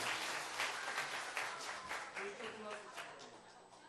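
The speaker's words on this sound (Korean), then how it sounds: "다 같이 한번 박수 한번 크게 축복해 주시기를 바랍니다." A church congregation at a Sunday service for children claps together after an infant baptism, a brief burst of applause that fades, with voices mixed in.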